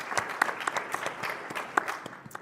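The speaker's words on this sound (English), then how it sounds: "Let's give another round of applause for our panelists." A small audience at an SXSW Edu 2023 panel gives the student panelists a round of applause, scattered individual claps with distinct sharp hits rather than a dense roar, close and moderately loud.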